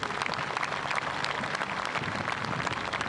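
Dense, steady applause from a large crowd at India's Navy Day 2023 celebration, continuous and loud throughout without speech.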